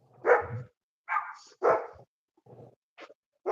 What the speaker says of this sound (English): the German Shepherd across the street is also barking, and the dogs down the street